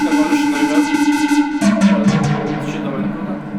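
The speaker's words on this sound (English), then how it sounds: "this is Ableton built-in convolution reverb, which sounds amazing." An Arturia synth tone runs through Ableton's built-in convolution reverb and an Arturia delay: a sustained harmonic note with rhythmic echoing pulses shifts pitch partway through, then trails off in a fading, spacious tail with no voices.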